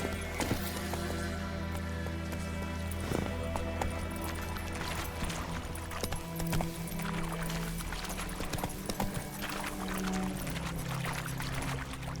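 Roach the horse galloping in The Witcher 3, rhythmic hoofbeats drumming steadily over a sustained game music bed with tonal drones, continuing for about twelve seconds without speech.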